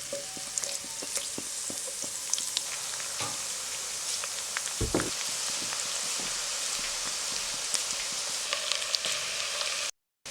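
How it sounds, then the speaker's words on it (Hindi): Sliced onion frying in hot cooking oil in a pot for a dry mutton curry, a steady dense sizzle with crackling pops running throughout, close and fairly loud, ending in a brief drop to silence. "ऑयल के गर्म होने के बाद इसमें प्याज डाल रही हूँ।"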